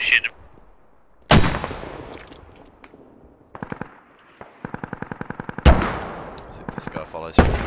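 Video-game gunfire: a loud burst, then scattered shots and a rapid automatic volley, ending with more heavy close blasts.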